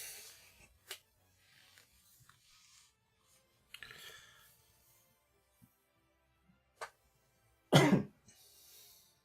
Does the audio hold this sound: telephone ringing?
no